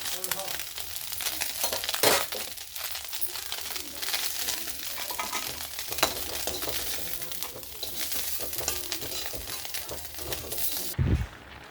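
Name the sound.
small fish frying in a pan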